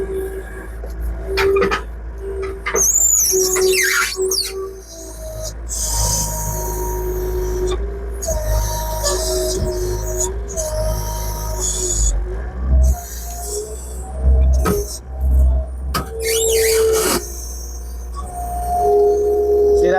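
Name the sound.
New Holland L225 skid loader straining to lift oak log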